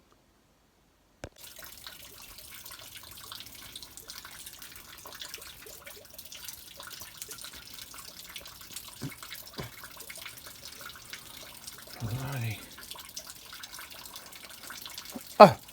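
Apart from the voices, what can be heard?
buckets filling up with water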